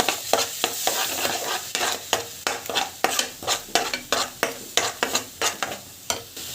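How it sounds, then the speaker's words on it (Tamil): Ground tomato and garam masala sizzling in a pan while a spoon stirs it in steady, regular scrapes, with a continuous close frying hiss underneath and no talking. "அதுவும் வந்து ஆட் பண்ணிவிட்டு நல்லா வந்து வதங்குவேன்."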